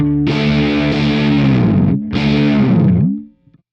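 Electric guitar played through a KHDK Annihilator II boost pedal with a sputtery, slightly brittle distorted tone: two loud sustained strummed chords, the first ringing about two seconds before a brief gap, the second fading out after a second.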